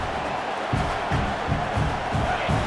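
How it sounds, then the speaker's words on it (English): A loud stadium crowd roars and cheers in EA Sports College Football 26, with rhythmic surges of noise pulsing about every half second, like a chant or stomping, filling the whole clip. "This crowd, full throat, splitting the eardrums and letting them know it's going to be a long day."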